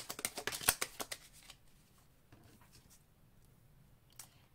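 Tarot message cards being shuffled, a quick run of crisp papery riffles up close, then a few softer scattered card flicks and slides trailing off into quiet.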